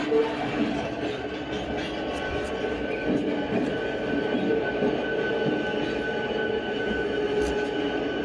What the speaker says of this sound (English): I can drive my train in and out.